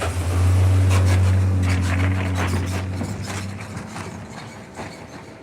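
A heavy Livonia, Avon & Lakeville Railroad train rumbles past at close range, a deep steady drone with rattling wheels that slowly fades as it moves away.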